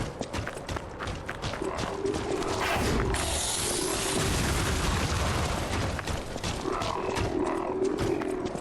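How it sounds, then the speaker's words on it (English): A deep, rumbling explosion roars out in the video game Lies of P, swelling into a sustained boom that lingers over a busy, noisy game soundscape. "you can literally just dodge an explosion."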